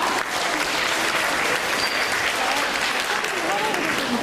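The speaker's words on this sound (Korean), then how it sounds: "자, 큰 박수 한 번만 더 부탁드리겠습니다." Sustained audience applause at a Korean team presentation event, a dense steady wash of many hands clapping together, loud and continuous throughout with no pauses.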